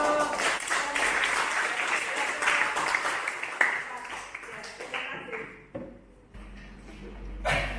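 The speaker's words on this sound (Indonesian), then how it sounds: "Beri aplaus." Applause at the close of a classroom teaching-practice lesson, a burst of clapping that starts loud and thins out over several seconds, followed by scattered taps and a low thump near the end.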